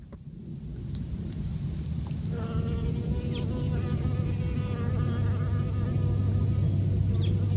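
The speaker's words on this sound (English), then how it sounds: "I thought I heard some bees" Bees buzz steadily around marble mahonia flowers in a winter garden, a dense continuous insect hum that rises slightly after the first couple of seconds and holds close and fairly loud.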